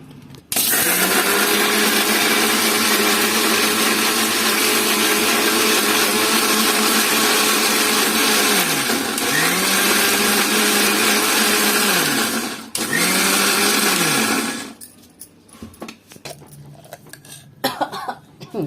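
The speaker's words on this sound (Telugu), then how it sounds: "ఇది ఒక్కసారి మిక్సీ పెట్టేసుకుంటున్నాను నేను" A kitchen mixer grinder whirs loudly and steadily while grinding chutney with rock salt, the motor note dipping briefly twice before it switches off, leaving quiet clatter and light handling noises.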